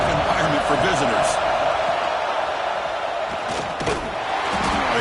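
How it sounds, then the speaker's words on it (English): A football stadium crowd roars steadily through a tough early-game moment, a dense wall of cheering with thuds and shouts, while a commentator talks over it. "Listen to the crowd energy here in the early going."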